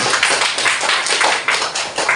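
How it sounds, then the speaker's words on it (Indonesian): A school classroom of students clapping for a student group, a quick round of applause with uneven, rhythmic bursts of many hands, close and lively, with no talk over it. "kasih tepuk tangan untuk kelompok"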